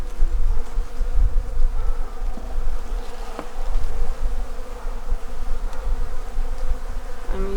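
Honey bees buzz around a beehive, a dense, continuous droning hum from many insects close by, with individual bees briefly swelling louder as they pass.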